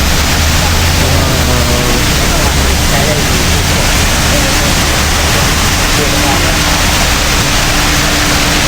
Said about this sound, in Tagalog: Meron siyang waterfalls dito.